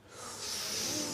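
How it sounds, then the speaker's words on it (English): A studio audience draws in a sharp, hissing collective breath, a rising wince that swells and holds briefly without any words. "That was the sound of audible wincing, Jermaine."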